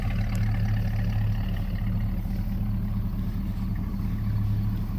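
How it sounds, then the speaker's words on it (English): A 1969 Ford Talladega Torino V8 idles steadily at a classic car auction, a low, even rumble with a slight lope, moderately close and continuous with no talking over it. "Now he just took it out of gear, so you can hear it idling."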